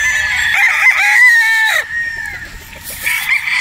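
A straight comb Boston Roundhead rooster crows loudly at close range, one long drawn-out cock-a-doodle-doo, followed by softer clucking and farmyard sounds.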